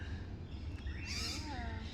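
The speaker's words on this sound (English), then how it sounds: "You can hear the birds." Birds call outdoors in a residential area of Sydney, with a few thin, high chirps and a sliding whistle-like call rising over steady low background rumble and faint voices.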